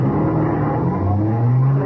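A car pulls away and speeds up. Its engine hums steadily and climbs in pitch over about two seconds, fairly close and loud.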